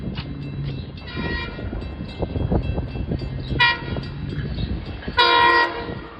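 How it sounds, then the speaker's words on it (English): A westbound Long Island Rail Road express train passes close by at a crossing near Bay Shore, rumbling steadily with clattering wheels and short, loud blasts of its horn sounding near the middle and end. "There's a second westbound train."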